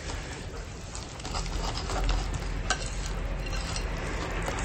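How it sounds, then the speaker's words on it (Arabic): Butter sizzling in a hot frying pan greased for vegetable pancakes, a soft steady crackle at moderate distance with light utensil clinks, no talk. "داك المقلاة السخون دهنتها بشويه ديال الزبيده"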